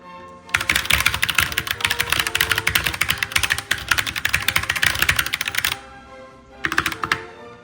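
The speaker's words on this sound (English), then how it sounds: "So, here is me typing." Fast, continuous typing on a custom mechanical keyboard, with dense crisp key clicks close to the microphone, a brief pause, and then a short final burst of keystrokes.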